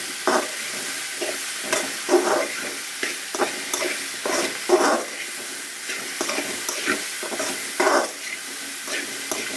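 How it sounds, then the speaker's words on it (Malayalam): Okra aviyal with salt and oil being stirred in a pan, a spoon scraping in short, irregular strokes over a soft frying sizzle, close and fairly quiet with no talking. "ഉപ്പും എണ്ണയും എല്ലാം കൂടി നല്ലതുപോലെ ഒന്ന് ഇളച്ചെടുക്കുക."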